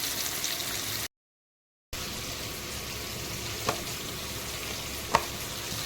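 Soybean chunks fry in a small amount of oil for chilli soybean, a soft continuous sizzle close by, briefly dropping out, then resuming with a couple of light clicks from stirring.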